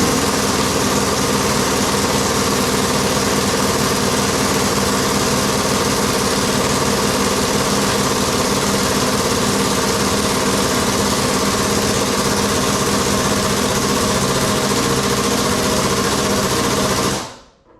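A tool pulls the harmonic balancer off a Big Block Chevy 454 engine from a 1974 Eliminator jet boat, giving a loud, steady mechanical whir that runs nonstop for about seventeen seconds and then cuts off abruptly.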